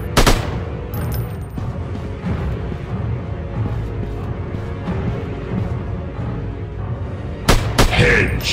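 A mobile first-person robot shooting game plays with a steady low din of rattling game gunfire and booms throughout, broken by a few sharper, louder bursts near the start and end.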